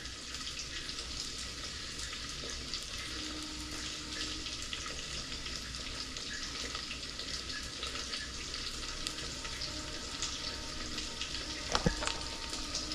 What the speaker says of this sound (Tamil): நல்லா எண்ணெயிலே வேகுது.